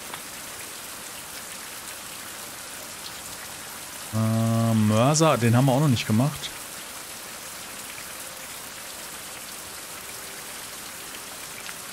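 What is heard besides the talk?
loud rain in the video game Fountain of Youth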